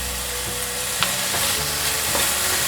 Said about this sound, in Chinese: 持续的翻炒，炒到水汽蒸发就可以了。